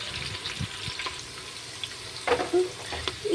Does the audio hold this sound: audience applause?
no